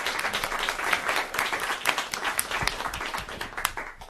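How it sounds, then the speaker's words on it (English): Moderate clapping from a modest audience at a county board of education meeting honors a high school teacher, steady irregular hand claps throughout, with no talking. "Let's give her a round of applause, and then I'll talk a little bit about Miss Schock."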